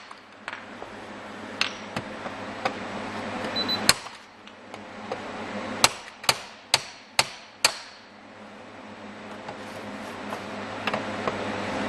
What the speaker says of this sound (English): you'll have to use a hammer and chisel and beat the screw heads off